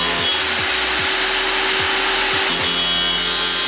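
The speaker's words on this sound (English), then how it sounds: "I'm gonna be cutting it with this grinder" Angle grinder cutting through a plastic dashboard instrument cluster part for an Escalade Platinum cluster swap, a steady loud whine and rasp with repeated short bursts as the cut bites, no talking.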